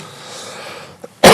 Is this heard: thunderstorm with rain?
no